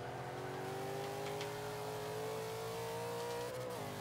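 An Ultima GTR's engine in Forza 5 holds a steady, sustained drone under gentle throttle, its pitch creeping slowly upward before dropping briefly near the end, with no talking over it.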